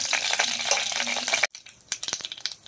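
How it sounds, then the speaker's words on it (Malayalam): Mustard seeds hit hot oil in a pan for a tomato pulisseri, first giving a loud, continuous sizzle, then a sudden drop to scattered sharp pops and crackles. "ഇനി അതിലേക്ക് കുറച്ച് കടുക് ഇട്ട് കൊടുക്കാം."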